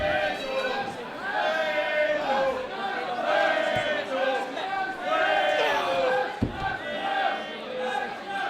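A wrestling crowd at an ICW heavyweight title match roars and chants steadily in support of challenger Grado as he struggles in a sleeper hold, a dense continuous wall of voices with a couple of sharp thuds.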